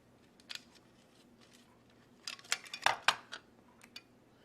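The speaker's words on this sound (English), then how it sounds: "Right now I'm just getting the nut on there." Small metallic clicks and scrapes come from a nylock nut being threaded onto a bolt: sparse light ticks at first, then a denser cluster of close, sharp metal-on-metal taps that fade away.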